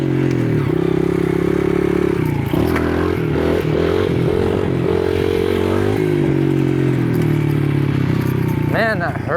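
A motorcycle engine holds a low, steady drone close by through a slow wheelie, its pitch dipping and rising with throttle changes and a brief rev near the end.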